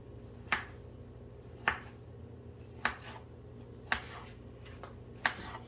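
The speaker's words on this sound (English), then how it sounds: "you can dice it, cut it straight down, and then across like this, and then you start the dicing process" A knife chops straight down through diced potatoes on a cutting board, five crisp separate strikes at an even, slow rhythm, close and clear over a steady low hum.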